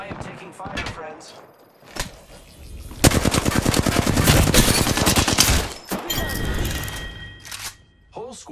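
Gunfire in the Apex Legends video game: scattered single shots, then a long dense burst of rapid automatic fire, followed by more bursts and isolated cracks, loud and close, with a voice talking in places.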